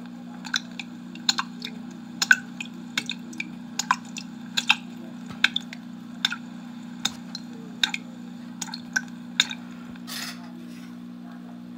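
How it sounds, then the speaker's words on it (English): Water dripping from a faucet, a steady series of sharp, bright drips at roughly even intervals over a low constant hum, fairly close and alone. "A faucet, dripping."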